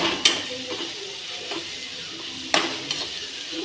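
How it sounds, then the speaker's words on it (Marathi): Boiled potato with ground green chili and salt sautés in a pan, a continuous sizzle broken by a few sharp spatula scrapes and clinks against the pan, close and without talk. "त्याच्यामध्ये आता ही हिरवी मिरची दळून ठेवली ना ती टाकते, त्याला चांगलं परतून घेते।"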